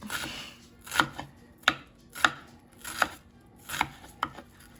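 A knife chops an onion on a cutting board in a home kitchen, sharp wooden knocks landing about once or twice a second in an uneven rhythm, close and clear with no talking over them.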